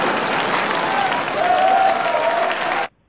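An audience cheering and applauding at a stage performance in the anime film Nisekoi, a steady wash of clapping and crowd noise that cuts off abruptly.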